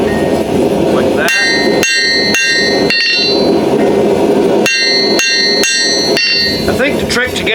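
A seax knife blade being hammer forged: sharp, ringing metal blows land in two uneven bursts of strikes against a steady background roar, close and loud, with no talking.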